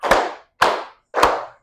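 Three sharp, evenly spaced claps from a class of children following a teacher in a classroom count, each loud with a short ringing decay and no voices.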